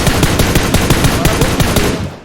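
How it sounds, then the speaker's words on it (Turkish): Rapid automatic gunfire from a PUBG Mobile match, a dense string of loud close shots sounding without pause, then tailing off at the end. "Oğlum birisi bana sıkıyor."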